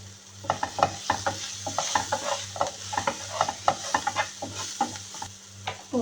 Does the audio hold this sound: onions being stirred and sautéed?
yes